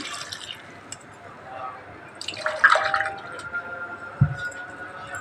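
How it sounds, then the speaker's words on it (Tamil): Water poured from a glass into a pressure cooker while chana masala is being cooked, a brief splashing fill in the middle followed by a low drip, with a voice faintly present. "ரெண்டு கிளாஸ் தண்ணி ஊற்றிக்கலாம்"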